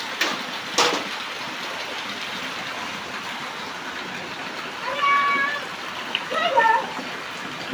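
Steady rain falls over a farm with a flooded groundnut field, making a constant broad hiss with occasional splashes, while people talk over it.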